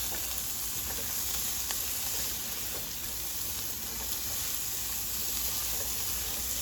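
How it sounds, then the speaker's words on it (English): Zucchini, tomatoes and mushrooms sauté in butter in a pan, giving a steady, close, dense sizzle and crackle that holds evenly throughout with no talking. "I'm just gonna saute this and then put it back into this bowl."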